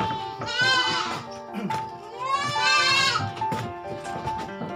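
Goats bleat repeatedly in a pen, loud and close, with long wavering cries overlapping and other animal noises around them.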